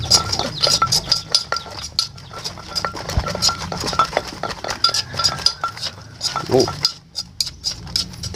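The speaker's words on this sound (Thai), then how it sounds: "คนให้เข้ากันนะทุกคนคนให้เข้ากัน" A spoon stirs a chili powder and sugar mixture in a bowl or pan, giving a run of light metallic clinks and scrapes at close range, irregular and steady, with a voice speaking intermittently over it.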